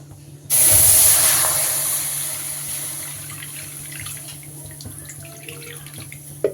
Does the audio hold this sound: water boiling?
yes